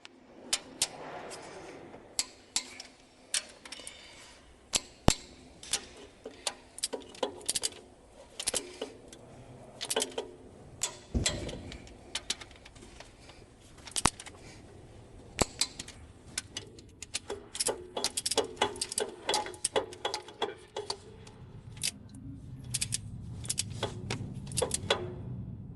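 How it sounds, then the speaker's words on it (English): Wrench tightening the cylinder head bolts on a YaMZ-534 engine, with repeated sharp metallic clicks and ratcheting taps spread unevenly through the clip over low workshop background noise. "We're turning all the bolts with the wrench along the marks."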